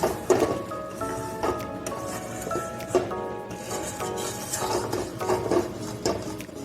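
Milk cream being stirred into chicken curry in a pan, with repeated scraping and rubbing strokes and light clinks of the spoon against the pan, close up over a steady low background hum.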